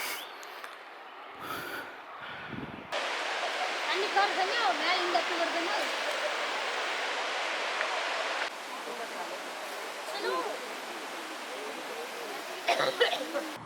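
The Kovai Kutralam waterfall near Coimbatore makes a steady broadband rush of falling water after a brief quieter start, with close breathy snorts and gasps over it.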